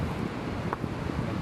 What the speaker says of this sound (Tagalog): Ay, ang sarap ng mahangin.